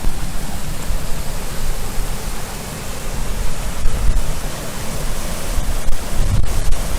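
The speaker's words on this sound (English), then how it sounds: "But just really love the sound of waterfalls." Steady, broad rushing of falling water, constant and fairly loud, with a gusty wind layered over it.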